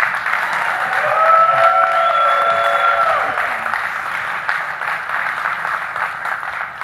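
An audience at a GOP Senate debate applauds two candidates, State Senator Leah Vukmir and newcomer Kevin Nicholson, as they come on stage, with steady loud clapping that holds for several seconds and then eases slightly.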